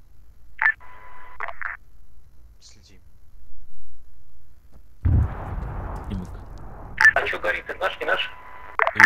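A phone ringing during a multiplayer military PvP game session, heard as short electronic ring bursts at the start and end, with radio-style voice chat and a low blast between them.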